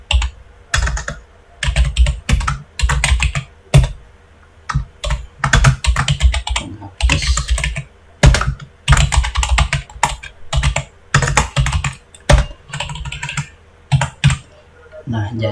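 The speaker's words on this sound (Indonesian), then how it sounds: "cara mengetik kata ataupun kalimat serta angka di dalam kolom sel" Someone types words and numbers into Excel spreadsheet cells on a computer keyboard, loud close clattering keystrokes in quick bursts separated by brief pauses.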